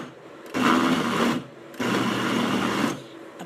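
A meat grinder mincing ground meat again with grated onion and parsley: two loud, steady bursts of motor whir, each about a second long, split by a short pause, with no voices.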